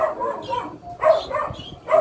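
A short-legged dog named Beauty gives a few yipping barks in bursts, close by, with soft background noise between them.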